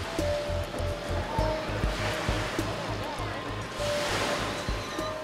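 Waves washing onto a sheltered beach in a small bay on Koh Ong, Thailand, a steady surf wash with swells of louder breaking, alongside a low rhythmic thumping undertone throughout.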